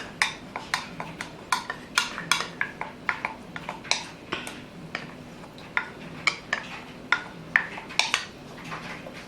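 Cajun creamy shrimp pasta stirred in a pot, with a spoon clinking and scraping against the metal in a steady, irregular rhythm of sharp taps over a soft, quiet background.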